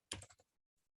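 A few quick keystrokes on a computer keyboard while entering text in AutoCAD: a short burst of soft clicks followed after a pause by one faint final tap, quiet and close.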